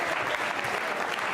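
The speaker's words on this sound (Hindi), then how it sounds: "तालियां बजाइए उसके प्रति श्रद्धा के रूप में" Students and audience members applaud at a school quiz show at Bright Future Public School, a brief burst of dense, lively clapping filling the room.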